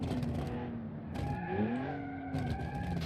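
Simulated race car engine revving hard with a loud exhaust note from the racing video game Automation, rising and falling in pitch over a couple of gear changes, with tire skid and squeal mixed in.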